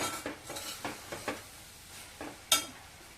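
A spoon stirs salt into beetroot kootu in a metal pan, about eight soft scraping strokes in steady rhythm with one sharp clink near the end, close and quiet with faint sizzling, no voices.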